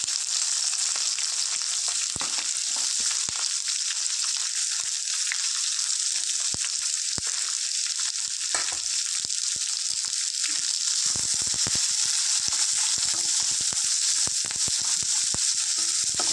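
Onion and green chillies frying in a pan, a steady, loud, continuous sizzle with occasional crackles and pops throughout.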